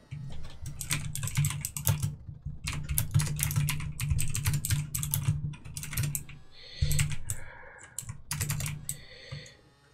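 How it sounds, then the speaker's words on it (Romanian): Rapid typing on a computer keyboard right next to the microphone, dense clattering keystrokes in quick bursts with short pauses, loud and close, while a game plays faintly in the background. "tastatura e mult mai aproape de microfon"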